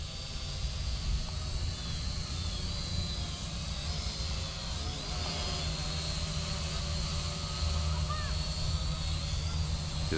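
An Eachine E511 drone flying on its first test flight, a continuous high whirring buzz of small propellers with faint pitch shifts, steady and moderately loud over outdoor background noise.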